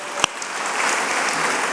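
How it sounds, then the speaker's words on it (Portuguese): A congregation applauds during a church service, with dense, steady clapping that swells slightly and carries on without a break, opening with one sharp, close clap. "Aplaude ao Senhor pelo Rafa aí."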